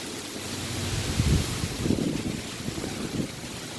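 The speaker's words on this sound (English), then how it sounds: "Feel that wind." Strong wind from a severe storm with 50 mph gusts buffets a microphone outdoors, producing a loud, continuous rushing roar with heavier low gusts pulsing through.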